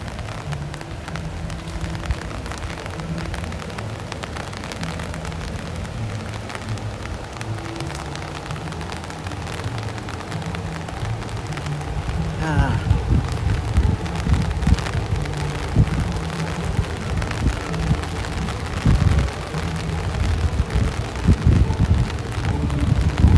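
Heavy rain and gusting wind from Hurricane Milton sweep over Universal Orlando, a steady wash of noise that grows rougher and louder halfway through as buffeting wind hits the microphone.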